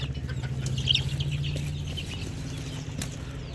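A bald-necked chicken, half bare and half feathered, clucks softly in short, scattered calls, with a faint flutter and a steady low hum in the background.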